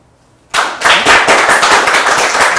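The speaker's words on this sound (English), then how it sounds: "Applause." Loud studio audience applause bursts in suddenly and keeps going as steady dense clapping, with cheering mixed in, at a milestone 300th episode celebration of a talk show.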